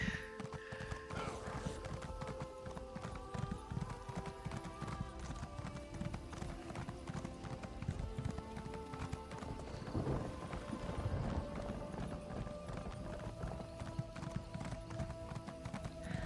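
Steady clip-clop of horse hooves from riders in Elder Scrolls Online, mixed with other game sounds and an occasional neigh, continuous throughout.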